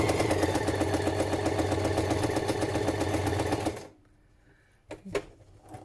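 A sewing machine runs steadily for several seconds doing loose, scruffy stitching on a journal cover, a fast even mechanical chatter that stops abruptly, followed by a couple of faint handling knocks.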